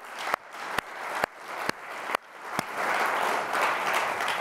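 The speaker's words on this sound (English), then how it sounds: "let's give them another round of applause." Audience applause at a live talk event opens with a few sharp, separate claps that swell into dense, continuous clapping.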